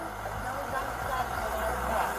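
A loud vehicle engine runs steadily with a rattling exhaust, a constant close rumble, and a voice talks over it.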